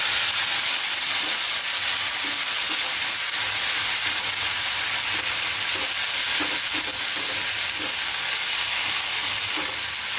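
Onion with ginger-garlic paste fries in a pan for a dhaba-style arbi curry, a dense continuous bright sizzle with a faint stirring scrape, close and steady throughout, no talk.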